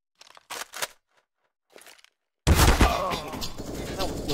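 Automatic rifle spray in Counter-Strike on the Cache map during a tournament final, a sudden dense burst of rapid gunfire after a few quieter clicks and footsteps, loud and continuous.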